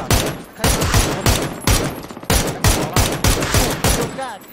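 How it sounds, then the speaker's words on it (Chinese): Rapid bursts of gunfire ring out in a shooter video game, sharp loud shots in a fast uneven rhythm of about a dozen blasts, with a player's excited voice calling out briefly among them. "开枪了，开枪了！"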